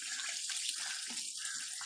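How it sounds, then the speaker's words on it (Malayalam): A thin, steady stream of liquid pours with a soft continuous hiss, as a spoonful of vinegar goes into a chutney mixture. "ഇതിലേക്ക് 1 സ്പൂൺ വിനാഗിറും കൂടെ ഒഴിക്കണം"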